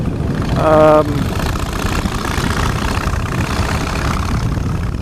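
A Harley-Davidson Street Bob Special cruises with a steady, loud low engine rumble and heavy wind noise throughout, a voice briefly rising over it near the start.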